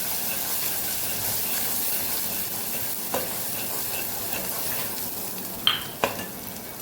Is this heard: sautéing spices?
yes